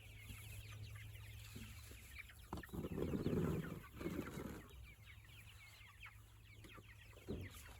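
Chickens cluck softly in short scattered bursts, with faint rustling and a brief louder flurry of clucks partway through.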